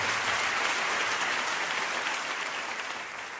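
Sustained audience applause at a Brazilian Christian worship event, a dense, even roar of many hands clapping that holds strong and then eases slightly toward the end, with no voices on top.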